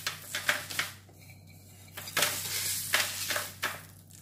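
Peanut candy mixture being spread and scraped across parchment paper, a series of short soft scraping strokes at close range with brief pauses between them, no talking.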